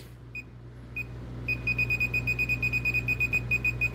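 A couple of isolated beeps, then a rapid, steady train of high-pitched electronic beeps from a Klein circuit tracer over a low hum.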